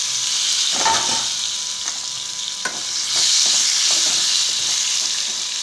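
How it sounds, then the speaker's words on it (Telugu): Sautéed seasoning frying in a pan for a raw plantain curry, a steady bright sizzle with several scraping stirs of a spoon against the pan, close and continuous with no talking. "ఇదంతా వేగిన తర్వాత మనం ఉడికించి పెట్టుకున్న అరటికాయ ముక్కల్ని వీటిలో వేసేసుకోవాలి"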